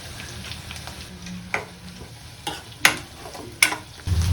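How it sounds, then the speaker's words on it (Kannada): Onion and curry leaves frying in a pan, a quiet sizzle broken by several sharp scrapes and clicks of a spatula at irregular intervals, close up and with no voices. "ಸೊ ಈರುಳ್ಳಿ ಹಾಕೊಂಡು ಸ್ವಲ್ಪ ಫ್ರೈ ಮಾಡ್ಕೊಂಡಾದ್ಮೇಲೆ adding curry leaves"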